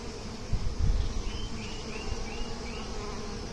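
Honey bees buzz steadily in a poly hive in February, a dense droning hum with a brief low thump near the start.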